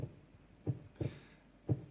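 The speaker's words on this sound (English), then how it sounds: "It's a heartbeat." A heartbeat sound plays softly from a rechargeable white noise machine. Low, muffled thumps come in pairs at a slow, steady pulse, and there is no talking.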